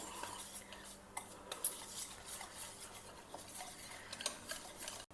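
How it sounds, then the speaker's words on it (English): Curd and roasted besan being whisked together in a bowl, a steady busy scraping and clinking of the whisk against the vessel, close and continuous with no talking. "Now I am whisking together this curd or dahi and our roasted besan."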